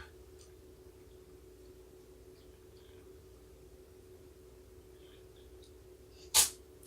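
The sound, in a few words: sneeze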